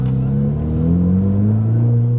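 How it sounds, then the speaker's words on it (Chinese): A car lunges forward the moment the brake is let off and the clutch engages, its engine giving a loud, close, rising drone with a smooth whir beneath it and no talking. "我一放低的那刹那哦，它就一放 brake 了，它就冲出去那种感觉哦。"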